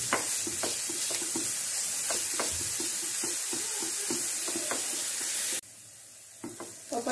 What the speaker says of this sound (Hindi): लो फ्लेम में 2-3 मिनट ऐसे ऑयल में फ्राई करने से